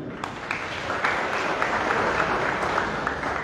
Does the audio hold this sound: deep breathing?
no